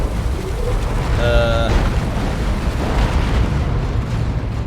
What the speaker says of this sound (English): That turret being targeted by the orbital bombardment